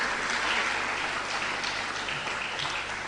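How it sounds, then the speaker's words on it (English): An audience at a school speech day and prize-giving ceremony applauds the students, a dense, steady wash of clapping from a full hall lasting throughout. "I ask you now to applaud them for their efforts."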